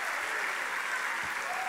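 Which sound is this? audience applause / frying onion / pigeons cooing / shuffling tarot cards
audience applause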